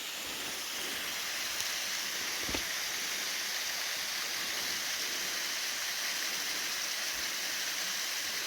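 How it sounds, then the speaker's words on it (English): Pine Creek's waterfalls in the Pennsylvania gorge give a steady, even rush of falling water heard from some distance, unbroken and without talk. "Can actually see the waterfalls much closer now for Pine Creek."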